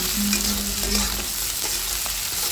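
A bay leaf, cardamom and cinnamon fry in hot oil with softening onions for egg khichuri, a steady near sizzle with brief stirring scrapes and a faint hum underneath.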